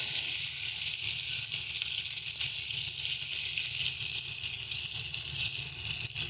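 Paneer pieces coated in salt and turmeric frying in oil in a pan, a continuous close bright sizzle with a soft crackle and no talking.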